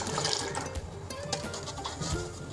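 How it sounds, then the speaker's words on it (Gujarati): Water pours from a small pot into a larger pot in a steady, close splashing stream that lasts a few seconds. "હવે આપણે પ્રથમવાર પાણી લીધું હતું તપેલીમાં તે પાણી આપણે તપેલામાં એડ કરી દઈશું."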